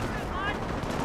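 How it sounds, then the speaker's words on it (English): Dense rumbling gunfire and explosions fill the whole moment in a Company of Heroes 1 battle as an artillery barrage lands, steady and continuous with no pause. "Pulse artillery hitting the Panzer Grenadiers."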